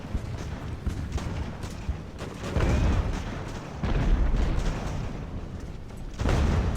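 Repeated cannon fire from Age of Sail warships in the naval strategy game Ultimate Admiral: Age of Sail, heavy booming broadsides rolling in several bursts with a steady rumbling battle wash between them, no talk.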